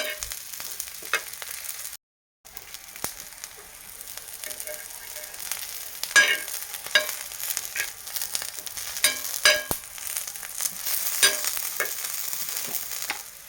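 Green chillies roasting and sizzling in a pan for Marathi chilli thecha, a continuous close crackling fry with scraping stirs, briefly cut to silence early on.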